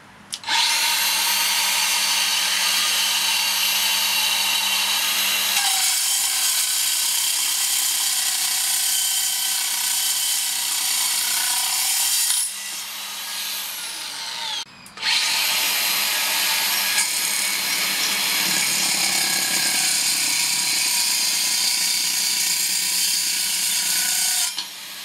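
A Makita flush-cut rebar cutter with a fast-spinning carbide-toothed blade grinds loudly through steel rebar in two long, harsh screeching cuts separated by a short pause.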